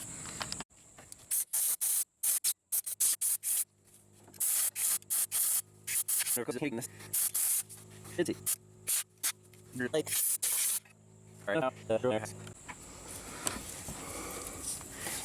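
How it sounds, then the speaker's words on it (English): Engine pulleys on a VW Tiguan are cleaned with repeated bursts of spray cleaner, sharp hissing pulses close by, broken by pauses and brief scrubbing. "let me clean up these pulleys"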